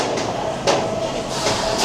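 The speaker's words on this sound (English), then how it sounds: "Here's a look at the trains, though." Roller coaster trains at Six Flags Darien Lake amusement park rumble and clatter steadily along the track with a sharp metallic clack partway through, heard fairly close with no talking.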